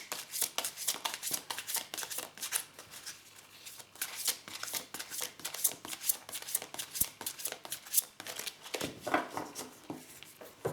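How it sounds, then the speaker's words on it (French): Tarot cards being shuffled by hand for a reading, a close, steady run of rapid riffling flutters and soft card slaps that continues almost without pause, with no voice. "pour ce tirage, je vais tirer plusieurs cartes"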